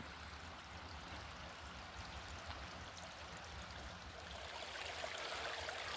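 Small winter creek flowing nearby at a campsite, a soft continuous babble and trickle of water, faint and steady with no voices.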